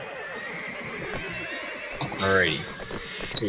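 A horse rears and whinnies in the Mount & Blade Napoleonic Wars game, a sharp rising neigh breaking out midway over clopping, with someone talking briefly before and after.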